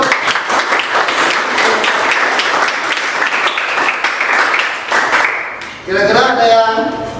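Applause from a classroom audience after a student presentation, a sustained burst of many hands clapping that fades, then a voice speaks over the room.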